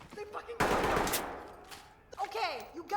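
Shotgun blasts and gunfire in the tactical shooter game Ready or Not: a loud burst cuts in and decays into a long echoing tail, followed by a fainter shot and some muffled voice-like game sounds.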